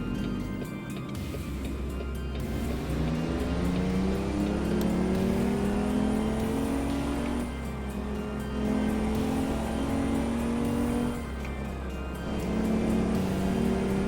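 A truck engine in American Truck Simulator drones loud and steady, its pitch climbing and dropping through several gear changes with no break in the sound.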